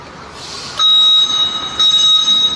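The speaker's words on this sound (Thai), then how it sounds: "ตอนถอยหลังก็จะมีสัญญาณเตือนนะคะ" Reversing warning signal of an electric tricycle: a steady high electronic tone sounding in two long pulses with a short gap, over outdoor background noise.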